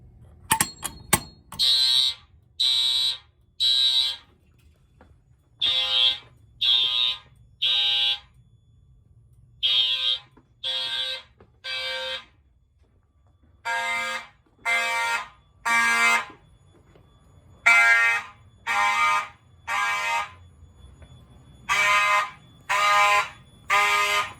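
A Simplex fire alarm system sounds after its pull station is activated, giving loud, repeated horn bursts in steady groups of three with short gaps between groups. The bursts continue without interruption, and no one speaks.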